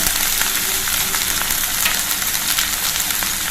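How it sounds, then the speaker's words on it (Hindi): Onions and spice masala fry loudly in a pan, a dense, continuous crackling sizzle with small popping bursts, close and unbroken throughout with no voices. "ये देखिए प्याज और ये मसाला सभी अच्छी तरह से भून लेंगे"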